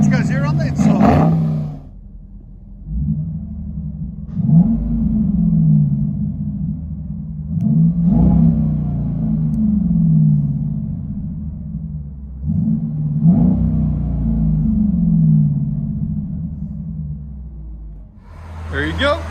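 A 2020 Dodge Durango R/T 5.7L HEMI V8 with straight-piped dual exhaust, heard from inside the cabin as a deep, steady idle rumble broken by several short revs, with voices talking.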